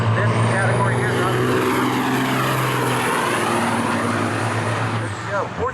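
Diesel semi trucks, a 99 Freightliner and a 98 Kenworth, roar past at a drag strip with a loud sustained engine drone and a clear pitch sweep as they pass, under an announcer's voice.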